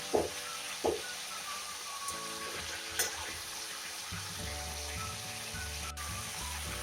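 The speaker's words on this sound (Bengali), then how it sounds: "2 মিনিট মতো আমি আদাটাকে কষিয়ে নিয়েছি।" Ginger paste sautéing in hot oil in a pan, a steady soft sizzle running throughout with a few sharp stirring knocks near the start and occasional scrapes.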